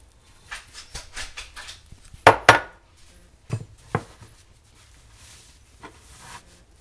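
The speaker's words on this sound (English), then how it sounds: "Scoop up another cup of rice." Dry rice is scooped by the cup and poured into a sock, making soft rustling patter and a few louder grainy bursts and knocks, close by and otherwise quiet.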